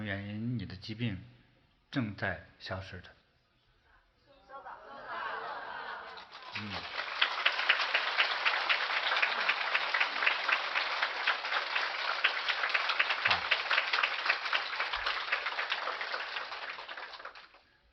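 An audience breaks into sustained, loud applause that swells and holds steady for over ten seconds, following a few seconds of a voice speaking.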